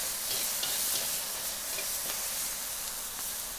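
Tomatoes dropped into browning garlic in a cast iron pot cooking on a kettle grill, giving a loud, steady sizzle and hiss of frying with steam, continuous throughout and with no voices.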